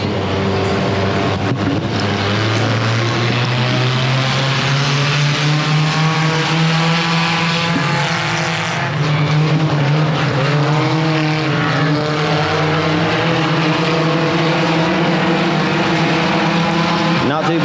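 Several dirt-track race cars roaring through a heat race at Lonestar Speedway, engines rising in pitch as they exit the turn, loud and continuous, with an announcer talking over the racing throughout.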